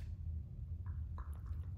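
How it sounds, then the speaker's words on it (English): A dog laps water from a portable dog water bottle, giving a few soft, wet squishing and dripping sounds close by over a steady low background hum. "She's drinking from it."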